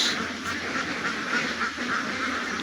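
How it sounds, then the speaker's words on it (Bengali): A flock of ducks on a duck farm quacks repeatedly as they file in one after another, overlapping nasal calls close by over a busy background of more birds, with no talking. "এই যে সিরিয়াল বাই সিরিয়াল এখনও আসিতেছে প্রচুর হাঁস"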